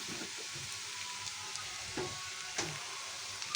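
Potatoes fry in a spice paste in a pan, a steady close sizzle with a few soft scraping stir sounds over it.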